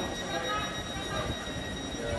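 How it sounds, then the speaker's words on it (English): Train moving along a railway near London, heard as a steady, close rumble with faint high squealing tones from the wheels and carriage throughout. "Our train is moving."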